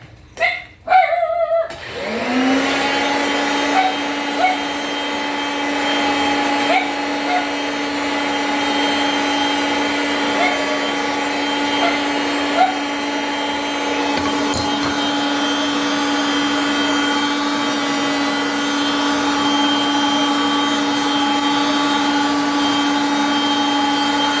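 A Kirby Sentria vacuum cleaner sucks up chia seeds, switching on after a few brief knocks and settling into a loud, steady, high whining drone with faint rattles of seeds through the hose.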